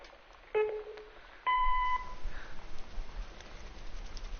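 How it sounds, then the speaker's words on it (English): Two electronic beeps from an answering machine in the video game Gone Home, a short tone followed by a longer, higher one, then faint background hiss. "Let's check our answering messages now."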